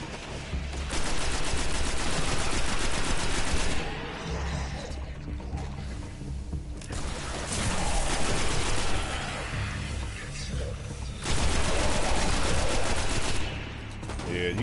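Rapid automatic gunfire from the video game Destiny, in a defensive firefight on Earth's Last Array mission, comes in long, dense bursts separated by short lulls, loud and close throughout.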